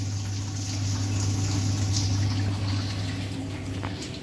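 Water pours steadily into a container for a 5-litre fill, a continuous rushing hiss over a low hum, loud and unbroken throughout.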